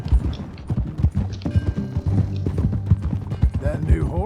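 Horse hooves clip-clopping on a ride in Red Dead Redemption 2, loud and close, with an even beat running under tonal music and background game sound.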